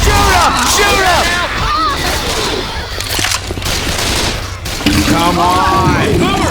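Gunfire in Left 4 Dead 2: loud, dense rapid shooting mixed with chaotic game noise and shouting voices throughout.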